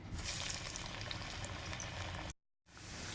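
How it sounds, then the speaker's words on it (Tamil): Sprouts vadai dough patted flat and dropped into hot oil, frying with a steady dense crackling sizzle throughout, briefly cut to silence near the end before resuming. "இப்போ வந்து எண்ணெய் காஞ்சிருச்சு. நம்ம தட்டி போட்டு"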